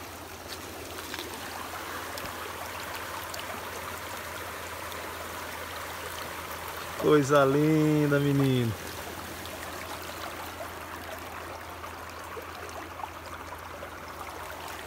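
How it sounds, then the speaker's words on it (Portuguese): Water from small streams runs steadily into a creek during a walk along its bed, a continuous close trickling wash throughout, with a man's brief spoken remark partway through. "Aqui são os córregos que alimentam o riacho."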